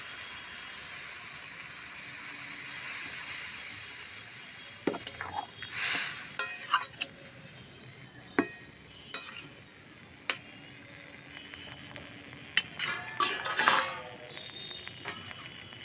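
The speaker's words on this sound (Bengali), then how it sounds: "ভালো করে ভেজে নিয়েছি, এবার জল দিয়ে দেবো।" Water poured into a pan of frying potato posto with bottle gourd greens, with a steady background sizzle and stirring, then sharp splashy bursts and clatters of utensils as the liquid hits the hot pan.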